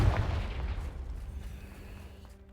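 A Confringo spell blast goes off in a Harry Potter video game as a deep, booming explosion that hits hard at once and then rumbles away over a couple of seconds.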